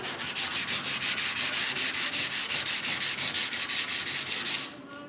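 Bondo body filler on a 1968 C10 grill shell being sanded smooth for epoxy: steady, close rhythmic back-and-forth scraping strokes that run continuously, then stop abruptly just before the end.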